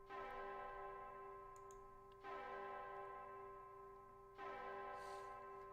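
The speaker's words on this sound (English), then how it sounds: "the chimes from the clock tower resounded solemnly." Clock tower chimes ring out in the video game Remember 11: three solemn, resonant bell strikes about two seconds apart, each leaving a long humming decay that carries into the next, with no voices.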